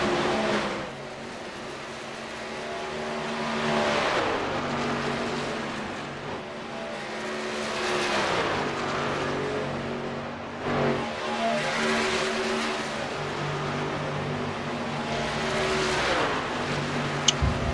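Racing trucks in a Mars Truck Series race run green flag laps, engines roaring loud and steady as they sweep past in repeated waves, one surge after another with no break.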